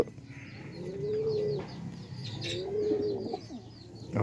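A racer pigeon coos twice nearby, each low, rolling call swelling and fading, with faint chirps and small rustles in between and no voices.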